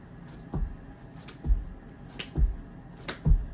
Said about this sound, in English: And there we have clapping push-ups,